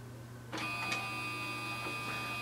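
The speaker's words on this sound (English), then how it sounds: "just wait for the printer to start its work" A Canon TR4550 all-in-one inkjet printer starting up to scan, a steady mechanical whir with a sustained motor tone beginning partway in, plus a few soft clicks, close and moderately quiet.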